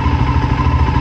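A Voge 300 Rally motorcycle engine idles close by with a steady, fast low thump and a faint mechanical clatter over the whole brief stretch, loud and unaccompanied by voices.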